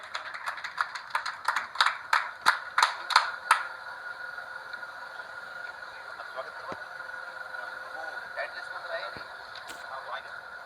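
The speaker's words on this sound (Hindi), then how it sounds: "एक बार जोरदार तालियों से आप लोग स्वागत करें श्री सुरेंद्र सिंह जी नारवा" An audience at the opening ceremony of a cricket tournament in Chennai welcomes a guest on stage with a short burst of sharp, evenly paced claps for about three seconds, then fades to a low hum.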